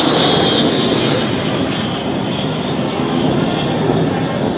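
Military fixed-wing aircraft in formation pass over a parade ground at a presidential swearing-in ceremony in Uganda, a loud continuous engine roar sustained throughout without fading, no talk.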